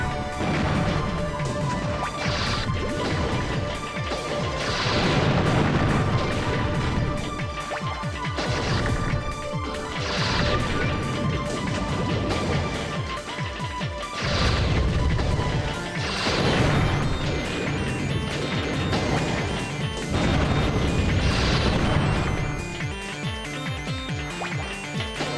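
Repeated booming bomb blasts and crashing impacts from the robot battle game Custom Robo, loud and dense, bursting every few seconds over a constant layer of game music and effects.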